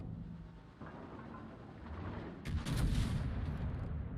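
Heavy battleship gunfire in World of Warships, a Tier 10 French Republique battleship battle in Northern Waters: loud booming artillery over a steady rumbling background, with a stronger blast rolling in mid-clip and no talk.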